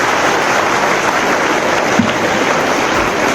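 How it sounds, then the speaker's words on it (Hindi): Schoolchildren at a school seminar on Swami Vivekananda applaud loudly, a steady, dense wash of clapping sustained throughout with no pauses. "एक बार आप अपने लिए जोरदार तालियां बजाएं"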